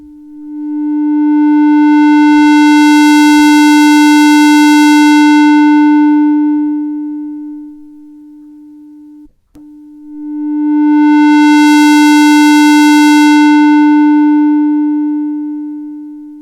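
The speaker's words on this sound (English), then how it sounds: "But let's hear the square wave, shall we?" Yamaha CS-5 synthesizer playing a square wave through its low pass filter: two long sustained buzzy tones with swelling and fading brightness, separated by a brief gap, loud and alone.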